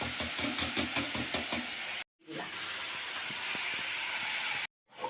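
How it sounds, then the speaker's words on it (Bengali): A pan of fish cutlet mixture boils steadily on the stove, giving a dense, hissing bubble close by with faint rhythmic knocks early on, cut by two brief silent gaps. "সুন্দর ফুটে গেছে, কতটা ফুটে ফুটে এসছে"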